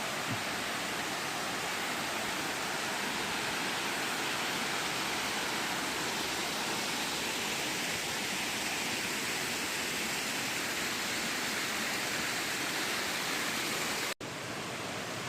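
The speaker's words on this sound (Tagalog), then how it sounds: "napakalakas ng tubig" Powerful rushing floodwater roars continuously and loud at a breached fishpond after heavy rain, a dense unbroken torrent close by with no voices over it.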